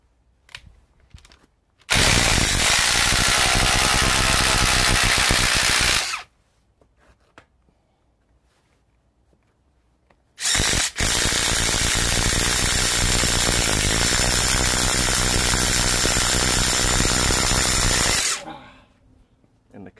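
A Ryobi PBLID02 impact driver on an HP battery drives a paddle bit into wood in two long, loud, steady bursts of about four and eight seconds, separated by silence.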